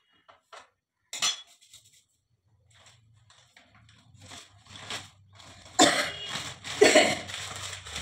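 Two or three harsh, loud coughs ring out close by in a home kitchen during pithe cooking, following scattered faint clinks of utensils and dishes against a quiet background.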